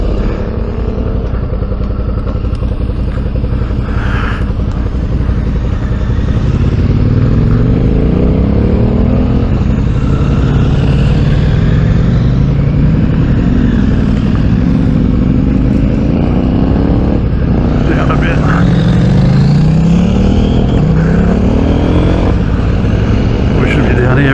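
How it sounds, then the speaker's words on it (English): A big BMW 1200 motorcycle on an adventure group ride, its engine droning loudly and rising and falling in pitch as it passes, mixed with steady wind rush. "On the big BMW 1200."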